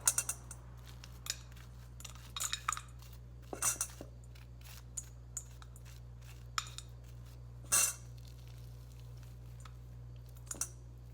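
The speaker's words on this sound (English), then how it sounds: "it's also nice for scraping seeds out of squash" A spoon scraping seeds out of a halved spaghetti squash into a bowl: quiet, intermittent scrapes and sharp clicks in irregular bursts, close and isolated against near silence, with no talking.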